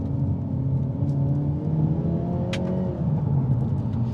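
Synthetic engine sound from a Hyundai i30 Sedan N (Elantra N) in its sporty active sound mode, a steady close rumbling drone that rises and falls slightly as it revs, with a brief click partway through.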